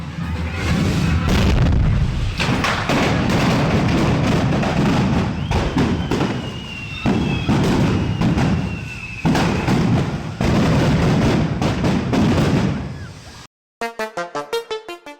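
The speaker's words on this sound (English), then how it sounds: "fireworks sparks ignited gas tanks near the food stalls around the plaza" Rapid, chaotic bursts of firework bangs and heavy booming gas tank explosions in a plaza, loud and continuous, with crackling and thuds layered over a roaring background.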